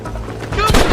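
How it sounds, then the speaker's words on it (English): Gunfire in the Western video game Red Dead Redemption, a loud close burst of shots cracking over a steady low rumble in under a second. "Stop shooting at me!"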